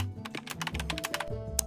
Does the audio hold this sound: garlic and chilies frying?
no